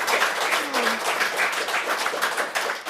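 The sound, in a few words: audience clapping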